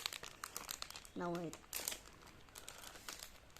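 Plastic packaging of an Among Us blind bag toy crinkles and rustles in quick handling bursts close by, while a person speaks briefly partway through.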